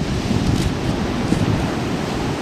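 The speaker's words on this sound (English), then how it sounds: "the waves are too good." Big ocean surf rolls in, a loud continuous roar of breaking waves mixed with wind rumble on the microphone.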